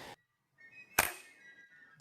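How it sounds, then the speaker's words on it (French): A replica flintlock musket of the kind used in the Civil War fires: a single sharp crack as sparks ignite a teaspoon of gunpowder in the pan, ringing briefly into a short fading tail after a moment of near silence. "une pluie d'étincelles tombe dans la bassine, enflammant environ une cuillère à café de poudre à canon dans la bassine"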